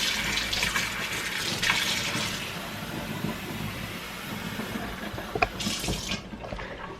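Tap water runs steadily into a bowl for salmon fish cake mix, a close, continuous hissing splash that holds for several seconds before tapering off near the end, with no voices.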